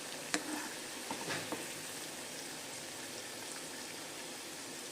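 Amla pieces frying in hot oil for pickle give a steady, even sizzle with a few soft pops early on, fairly quiet and close, with no voices.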